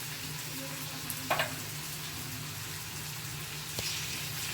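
Hot oil heating for frying prawns, a faint, low steady sizzle with a couple of brief louder crackles and a light clink.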